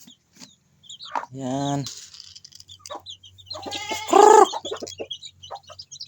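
Chickens and nine small chicks feed on a farm, with clucking and a couple of louder bursts of hen calls close by, while a person talks intermittently.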